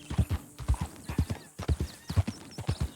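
An old horse in Red Dead Redemption 2 trots along with crisp, evenly paced hoof clip-clops, close and loud, one pair of beats after another with a short gap partway through.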